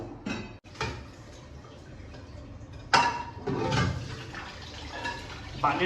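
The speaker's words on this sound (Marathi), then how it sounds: "धुवून घेतो पहिला तर भांडे पहिले व्यवस्थित" Dishes being washed under running water in a home kitchen, with a steady splashing stream, a few clinks of utensils and brief louder gushes, heard close up.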